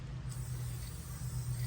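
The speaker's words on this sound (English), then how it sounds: "It's spraying really, really nice, even, not a lot of spitting out." A spray paint can hisses steadily while coating outdoor cushions, giving one even, continuous spray without sputtering that runs close and unbroken throughout.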